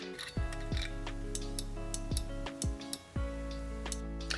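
A series of crisp mechanical clicks from the rear wiper motor micro switch in a BMW E39 Touring trunk lid, at irregular intervals, close by and faint, with a steady background hum.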